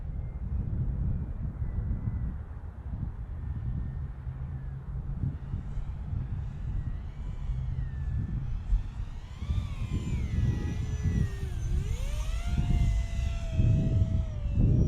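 X-41 Deltastorm aircraft on a landing approach: a steady, loud engine drone and wind rush fill the whole stretch, with a rising then falling whine building toward the end as it nears the ground.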